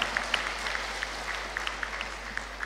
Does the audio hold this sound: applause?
yes